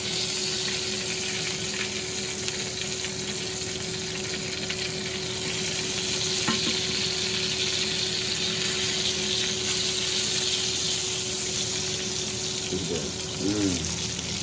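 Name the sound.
chicken thighs frying in hot oil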